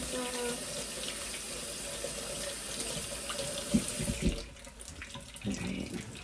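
A kitchen faucet runs into a sink as hands are rinsed after making potato pancakes, a steady close hiss with a few clunks before the flow cuts off.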